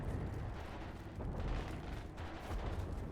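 Rumbling in-game explosion in the Outriders demo, a sustained dense boom with crackling blasts filling the low end for about three seconds, loud and close.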